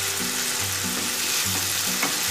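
Spice masala sautéing in a pan for a pepper egg curry, a steady broadband sizzle with periodic low scraping strokes of a spoon roughly every second, close and loud, no voices.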